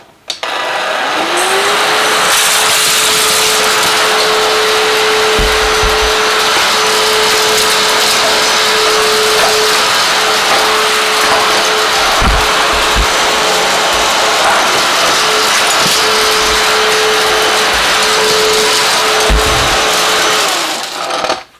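A cheap fake Dyson-style stick vacuum cleaner runs at close range with a loud, steady motor whine and airflow rush that holds for about twenty seconds, with a few brief bumps and knocks of the nozzle against the floor.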